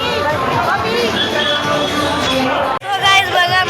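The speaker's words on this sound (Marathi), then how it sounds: "लय गर्दी बघा गाईज." Large crowd at a food distribution near a temple, a dense babble of many voices chattering at once, close and loud, with a brief dip before the hubbub resumes.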